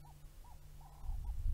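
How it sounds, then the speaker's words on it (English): Turtle doves coo faintly in the distance on a very quiet evening outdoors: four short, soft calls spaced apart, with a low wind rumble rising toward the end. "A couple of bird turtle doves are chirping in the distance."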